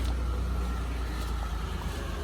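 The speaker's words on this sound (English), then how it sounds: "Yeah, it's like idling in and out." Dodge Charger GT idling unevenly, a close, steady low-pitched engine rumble with slight pulsing in loudness over a couple of seconds, no speech.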